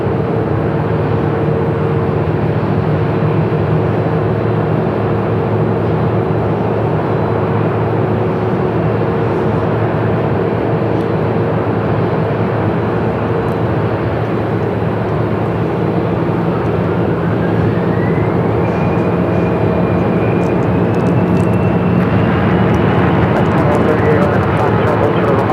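An Airbus A319 airliner of old America West livery at Phoenix Sky Harbor airport, a loud steady engine roar with a rising whine late on, while a voice talks over it.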